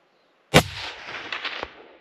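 A single rifle shot fired while hunting tahr in New Zealand, a sharp close crack followed by a rolling echo that fades over about a second and a half.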